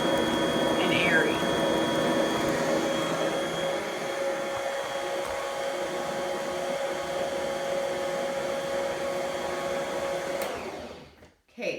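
A Bosch Universal Mixer creams butter and sugar for snickerdoodle cookies with a steady, loud whirring drone that runs for about ten seconds, then winds down and stops.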